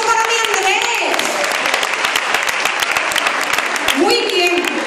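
Crowd applause for a performer named Andrés at the La Purísima town festival in El Palmar, dense clapping mixed with loud voices and cheering that runs throughout.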